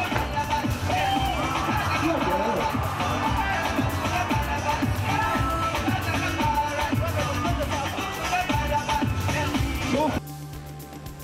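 A football match crowd of about 15,000 fans keeps up a dense, steady roar and babble for ten seconds, broken by scattered shouts, then drops suddenly to a quieter hum near the end.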